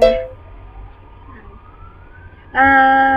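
A short synthetic police siren wail sounds in Minecraft, Hypixel Mini Walls, rising briefly and cutting in loudly at the end over quiet background.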